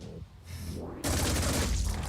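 Gunfire in the video game Terror From the Void: a short burst followed by a louder, sustained rattle of rapid shots, close and dense.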